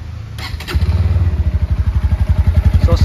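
A 2024 Bajaj Pulsar NS160 160cc motorcycle idling close by, its exhaust thumping in a steady rapid pulse after a brief clatter at the start, loud and alone with no talk.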